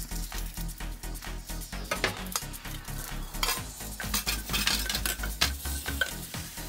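Aubergine and onion fry in a pan over medium heat, with a steady sizzle and repeated scraping and stirring strokes throughout, close and fairly loud.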